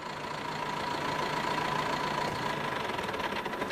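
A tractor engine idles steadily with a continuous mid-pitched hum and faint knocking, close and even throughout, no talk.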